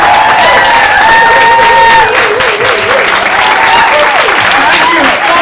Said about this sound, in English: let's give a huge round of applause, and if you can, a standing ovation